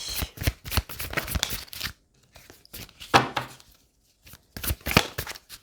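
Tarot cards being shuffled and drawn during a reading, close-up bursts of riffling and flicking card noise broken by short quiet gaps, with a few soft single card snaps.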